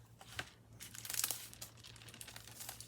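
Paper cut with scissors for a craft project, a series of soft, close snips and crinkles that swell to a busier stretch midway and then continue more lightly, with no voices.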